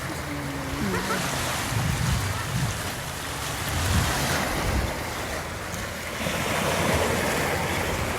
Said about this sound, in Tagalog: umaalon, nalakas ng alon, oh